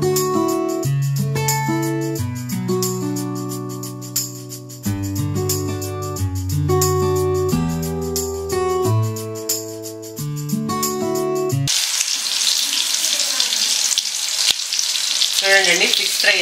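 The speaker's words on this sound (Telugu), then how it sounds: "ఇలాగే ఫిష్ ముక్కలన్నీ ఫ్రై చేసి చూపిస్తానండి" Small vanjaram fish pieces fry in a pan, a steady, loud broadband sizzle that takes over in the last few seconds after a stretch of music.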